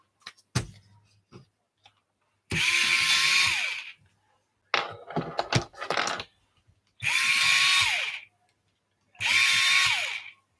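Three bursts of a small electric sharpener grinding colouring pencils, each lasting about a second and a half and whirring steadily, separated by quiet gaps with light clicks and handling taps.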